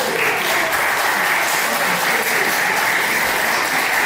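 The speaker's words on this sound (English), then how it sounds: "There are sections of the crowd that I can see and hear applauding the moves into a lateral press again" A crowd at an independent wrestling event applauds: dense, continuous clapping holds at an even, loud level from start to finish, with no voice over it.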